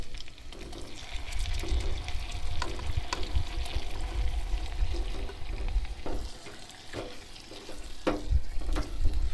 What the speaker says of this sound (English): I'm gonna add my fish into the butter mix.